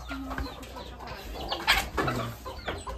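Chickens cluck nearby in short, scattered bursts, a few soft calls against quiet outdoor background.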